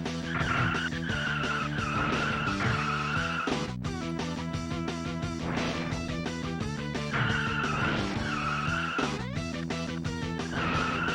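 Race cars screech and skid through a Rock n' Roll Racing race on its final lap. The tire squeals repeat over loud, continuous game music.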